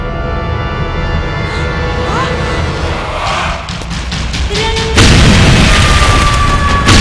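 Bomb blast in a Bhojpuri action film: a loud, sudden broadband burst at about five seconds that stays full and roaring, following a busy film soundtrack with music tones and scattered thuds.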